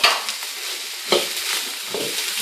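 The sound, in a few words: diced bacon and carrot frying in a pan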